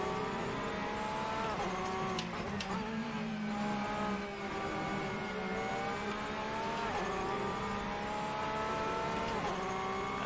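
Porsche race car engine in the Assetto Corsa racing game, droning steadily at close range with repeated rising and falling revs through gear changes over ten seconds.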